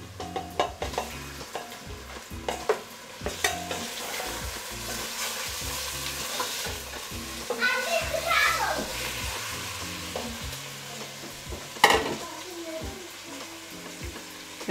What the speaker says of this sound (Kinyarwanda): mpite nshiramo inyama